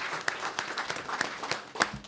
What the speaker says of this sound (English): A round of applause for Valente.